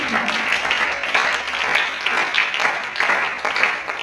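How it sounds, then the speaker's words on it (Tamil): A church congregation claps together during a Tamil Christian sermon, a steady, dense patter of many hands that holds for several seconds at moderate loudness with no break. "ஜாயக்கா ஒரு கைத்தட்டு போடுங்க பார்க்கலாம்"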